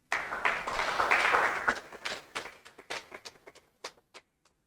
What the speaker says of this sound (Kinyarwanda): Ko mudakomye amashyi.